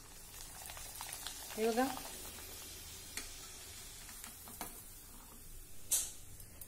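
Sabudana and potato papad frying in hot oil give a faint, steady sizzle with a few soft clinks. A voice speaks briefly near the start.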